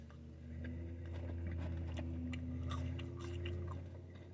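Someone eating fries, with soft chewing and crunchy bites repeating over a steady low background hum, close and fairly quiet.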